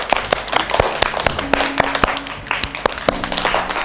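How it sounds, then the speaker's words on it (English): Audience clapping for a student, sharp, uneven hand claps from a small group that sound close and lively for a few seconds. "Everybody give her a round of applause."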